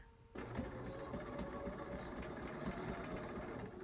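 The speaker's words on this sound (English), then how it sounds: "So let's take a couple of little stitches." Sewing machine stitching a quilt along a ruler in straight-line quilting, a near, steady mechanical whir that starts suddenly and runs evenly, with no talking.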